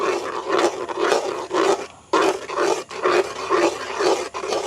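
Scraping and stirring of egg frying in a pan for bread kottu in a village kitchen, repeated close rasping strokes in a fairly steady rhythm with a brief pause midway.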